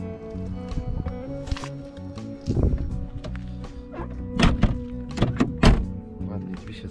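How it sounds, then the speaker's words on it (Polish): A solid car door on a 1980 Mercedes-Benz thunks shut, followed by a few more dull thuds, with people talking over a low hum throughout. "Ładnie drzwi się zamykają."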